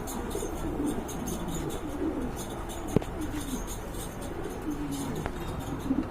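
Quality pigeons, including a Maltese hen in blue-grey bar colouring, coo softly in a market stock setting. The low murmuring coos sit under steady background noise, with one sharp tap partway through.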